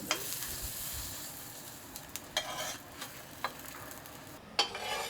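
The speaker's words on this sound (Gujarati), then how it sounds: "ને ઉપરથી પણ થોડું બટર લગાવીને દાબેલીને બધી સાઈડથી આપણે શેકવાની છે" Dabeli buns toasting in butter on a hot pan give a steady, close sizzle with scattered crackles and light scraping clicks as they are pressed and turned, with no talking.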